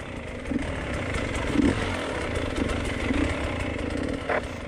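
An off-road motorcycle labors over rough, extreme terrain during a hard enduro race, its mid-pitched engine droning steadily with small surges and revs, fairly distant and muffled.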